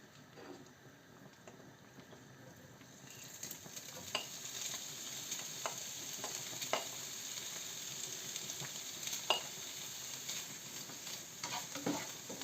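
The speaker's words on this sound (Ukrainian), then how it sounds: "І так обсмажуємо їх трошки. Помішуючи, смажимо до легкого зарум'янення такого." Steady sizzling of shrimp and mussels frying in a pan, with occasional clinks and scrapes of stirring, growing a bit louder partway through.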